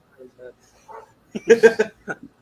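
A pet dog gives a few short yips and barks indoors, close by, in quick uneven bursts ending in a louder cluster, mixed in with nearby human voices.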